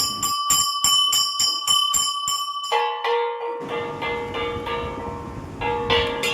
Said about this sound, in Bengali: অনেকক্ষণ ধরে ঘন্টা বাজানোর চেষ্টা করছে ঘন্টাও বাজাচ্ছে